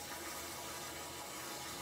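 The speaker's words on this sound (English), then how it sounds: "I'm gonna go ahead and plug this up and then fill it full of water." Water pours steadily into the reservoir of a hydroponic tower garden, a continuous soft rushing hiss that stays even for under two seconds, with no voices.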